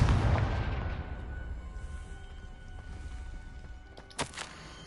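A Confringo fire spell explodes in Hogwarts Legacy, opening with a loud, deep blast that fades into a long rumbling tail, followed near the end by a brief sharp crack.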